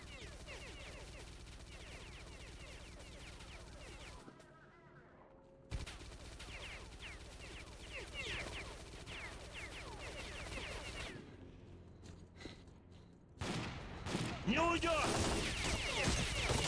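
Shotgun fire in the video game Stalker: Clear Sky, heavy blasts mixed with other gunfire and game noise, a brief lull midway, then a louder burst of shots near the end, with someone talking over parts of it.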